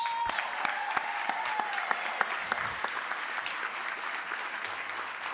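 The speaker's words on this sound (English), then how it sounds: "Give yourselves a thunderous round of applause." Graduates applaud at an Essex County College convocation, a dense, sustained roar of clapping from a large crowd with some distinct nearby claps, steady throughout.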